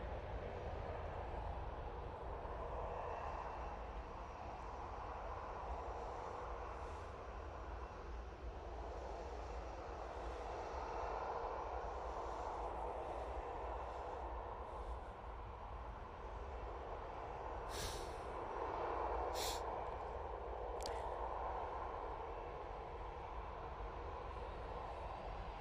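Airliner taking off from Manchester Airport bound for Faro, a faint, far-off steady jet roar that swells gently and fades across the stretch, with a few brief sharp clicks near the end.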